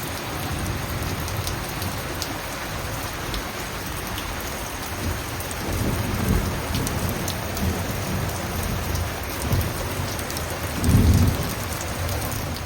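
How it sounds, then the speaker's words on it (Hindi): Steady, heavy rain pours down throughout, with low rumbles of thunder rolling in toward the end, loudest in a deep boom near the close. "ऐसी झमाझम बारिश हो"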